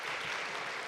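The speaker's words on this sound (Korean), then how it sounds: "하나님께 한번 영광의 박수 올려드리겠습니다." A congregation at a Korean prayer service claps together in steady, dense applause, even and sustained throughout without a break.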